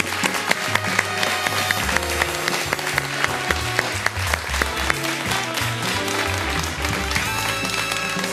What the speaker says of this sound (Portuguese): Samuel Manzambi, as palmas